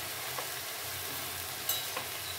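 Leafy greens sizzle and fry in a pan while being stirred, a steady soft hiss with a few faint scraping clicks from the spoon, close but quiet.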